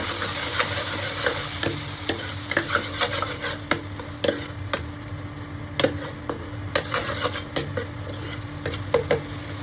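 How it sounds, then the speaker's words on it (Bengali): Boiled dal is stirred into a tempering in a pan for dal tadka: repeated scraping strokes of a ladle over a gentle, steady sizzle, close by and without talk. "এটা ভালো করে মিক্স করে নেব।"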